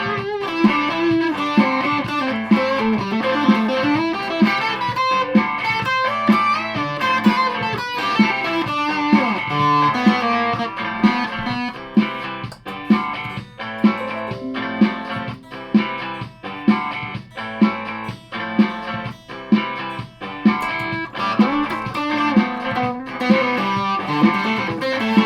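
A 1982 Ibanez Blazer BL550 electric guitar played through stacked distortion, with thick sustained chords and riffs that give way to rhythmic chugging stabs in the middle section, loud and upfront throughout.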